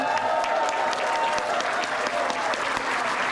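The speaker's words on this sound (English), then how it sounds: "Let's give them a round of applause." Convention crowd at a closing ceremony applauds the grand prize winners, a dense, continuous burst of clapping from a full room, steady and fairly loud throughout with a faint murmur beneath.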